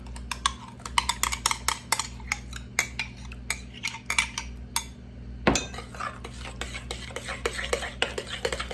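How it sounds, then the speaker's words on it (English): A utensil mixes hot cooked butternut squash in a dish, producing a busy run of close scraping clinks and soft squelching stirs, with one louder knock midway. "the squash is so nice and hot, mixes in really, really easy"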